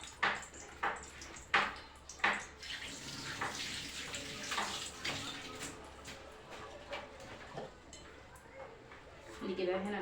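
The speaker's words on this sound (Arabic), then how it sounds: "اغسل ايدي وارجع لكم." Hands being washed under a running kitchen tap after seasoning fish: irregular splashing bursts and water spatter, loudest early then steadier and quieter, with a voice talking faintly.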